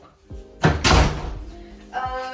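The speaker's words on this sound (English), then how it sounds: "So let's close the door." A front door in a London house entrance hallway swings shut with a loud, close thud and rattle, followed by a brief settling creak, and a voice speaks around it.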